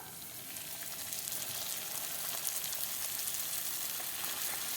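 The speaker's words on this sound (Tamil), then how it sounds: "நல்லா வந்து இந்த அளவுக்கு பொரிய விட்டுடுவோம்" Moong dal puri deep frying in hot oil gives a dense, continuous sizzle and bubbling, close and steady throughout, with no voices.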